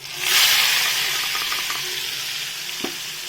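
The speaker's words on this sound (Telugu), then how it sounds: "అదే నూనెలోని అల్లం వెల్లుల్లి పేస్ట్ వేస్తున్నాను" Ginger garlic paste hits hot oil that has already fried marinated pieces, flaring into a loud hissing sizzle that settles to a steady fry, with a sharp spoon knock near the end.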